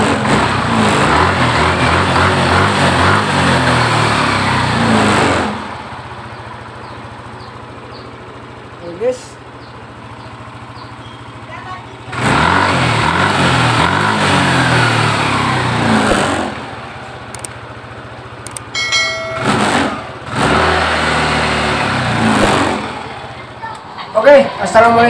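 Yamaha Nmax scooter with fault codes 61 and 37 idling at about 1500 RPM: a low, steady engine hum in the quieter stretches, broken by several louder, broadband bursts of sound.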